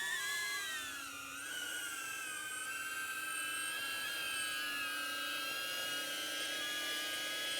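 Close, steady high-pitched whine of a DJI Avata FPV drone's propellers in flight and coming in to land at the edge of the Snake River Canyon, with the pitch shifting slightly throughout.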